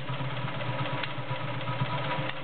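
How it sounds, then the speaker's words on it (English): A near-mint Morse Fotomatic III 4300 sewing machine runs steadily, stitching through eight layers of thick cotton, with a continuous mechanical hum and a faint clicking from the thread spool over a constant motor drone. "And the noise you hear is my spool of thread clicking."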